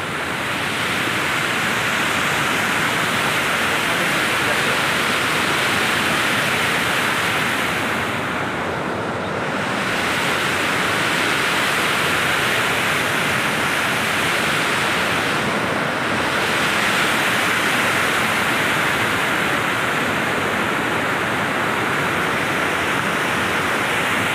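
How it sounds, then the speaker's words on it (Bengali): A mountain river in Nepal rushes past in a steady, loud roar of churning water that fills the whole stretch without pause, with no voices. "পাহাড়ের মধ্যে কি সুন্দর একটা নদী, আর সেখান দিয়ে পানি যাচ্ছে, হাঁ হাঁ করে পানি যাচ্ছে।"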